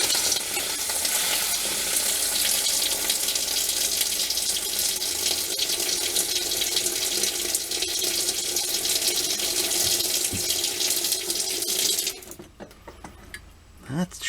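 Water runs steadily from a tap to bleed air out of the lines of a Geesen GE090T tankless water heater, a broad continuous rush lasting about twelve seconds before cutting off, followed by faint clatter.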